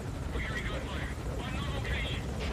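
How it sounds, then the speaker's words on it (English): Helicopter in the sky in the video game Metal Gear Solid V, a steady rotor drone and whir held loud and continuous throughout, with game noise mixed in. "Could it be from that helicopter in the sky, sir?"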